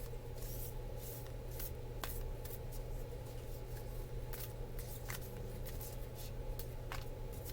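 Oracle cards shuffled steadily by hand, a soft continuous riffling and rubbing with repeated sharper flicks throughout, close and fairly quiet over a low steady hum, with no talking.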